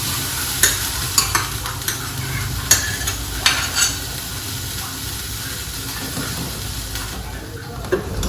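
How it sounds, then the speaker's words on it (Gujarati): Tea brews in a pan as a continuous bubbling simmer, broken by a few sharp clinks scattered across the stretch, with faint background voice. "ઉકાળો પણ આવી ગયો છે"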